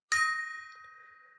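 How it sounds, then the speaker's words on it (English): A tiny gong gives a single bright metallic strike, then a clear, pure ring that slowly fades while sustaining to the end, close and alone. "We bought the world's smallest gong."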